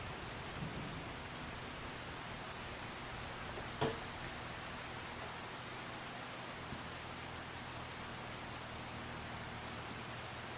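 Rain falls in the farming game Farming Simulator 25, a soft, even hiss of downpour with a faint low rumble of distant thunder and one brief sharper crackle partway through, quiet and without voices.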